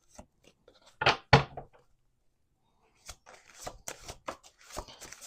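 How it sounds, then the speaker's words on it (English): Cards riffle and shuffle in two bursts, a loud flurry early on, then a longer run of softer snaps and flicks after a quiet pause. "We're going to do 2 more shuffles."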